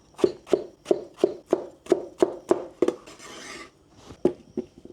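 Knife slicing through vegetables at an angle on a cutting board for a clear vegetable soup: a steady run of about ten crisp chops, close and evenly spaced, with a brief rustle midway and a few more cuts afterward.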